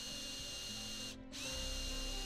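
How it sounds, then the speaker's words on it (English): Power drill boring a hole into a soft Italian slate mantel, a loud continuous whine that dips briefly as the bit eases off, then resumes at full strength. "Now we're drilling"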